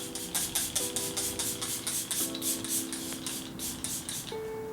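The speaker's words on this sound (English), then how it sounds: "I'm going to give myself a little spritz of the Milk Makeup Hydro Grip and Refresh spray" A face mist spray bottle (Milk Makeup Hydro Grip and Refresh spray) spritzes repeatedly in quick, even bursts, a string of soft close hissing puffs with no talking.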